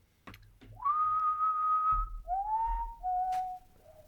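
A person whistles an imitation of an American dipper's call in a quiet room: a few long, clear whistled notes that slide and step down in pitch, with faint soft knocks around them.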